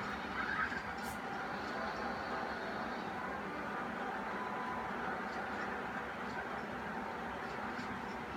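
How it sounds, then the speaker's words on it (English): A wooden roller coaster in RollerCoaster Tycoon runs with a steady dense clatter of cars on wooden track. The noise is broad and continuous, at an even level, with faint park ambience behind it. "if it is something that I do like about the wooden roller coaster, I do like the sounds that it makes"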